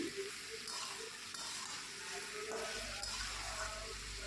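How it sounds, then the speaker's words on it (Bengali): Hilsa fish curry stirred with a spatula in a pan, a soft steady bubbling sizzle with faint scraping strokes, quiet and close, with a low hum underneath. "আবার একটু খন্তি দিয়ে আমরা নাড়াচাড়া করে ভালো করে"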